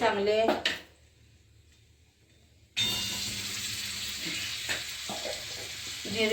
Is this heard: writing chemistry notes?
no